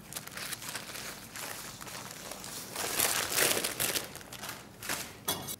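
Greaseproof paper peeled slowly off a baked sponge at a steep angle, a continuous close crinkling and tearing rustle that grows louder midway, with no talking.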